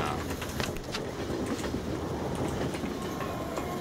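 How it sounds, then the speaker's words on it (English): A train rolling along rails in the Roblox game Doors, with a dense, steady rumble and faint rhythmic clatter that holds at an even, loud level throughout, with no talking. "That train is stopping him."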